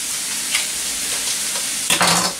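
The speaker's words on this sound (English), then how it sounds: "we're just gonna mash it up in the skillet here," Goetta being mashed and fried in a skillet, a constant close sizzle with scraping stirs, ending in a louder burst of crackling as the meat is pressed and broken up.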